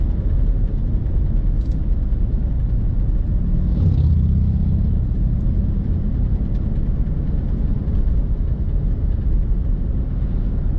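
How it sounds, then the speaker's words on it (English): A car rolls along the road with one tire making an odd noise, heard as a steady low road-and-engine rumble from inside the cabin with a brief swell partway through. "my tire is making a weird noise"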